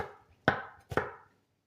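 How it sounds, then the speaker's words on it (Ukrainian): Two sharp knife chops land on a cutting board while an onion is cut finely, each a near, distinct thud about half a second apart, with quiet between. "То і цибульку, одну цибульку таку скришу до тої зажарки."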